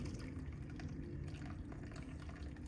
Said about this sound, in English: I am just going to pour my tea, stir the honey in